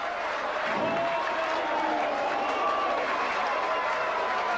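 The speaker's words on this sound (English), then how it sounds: "Rapturous applause there." Distant crowd applause at a 1994 rugby league match between Batley and Doncaster after a try, heard faintly beneath a commentator's voice.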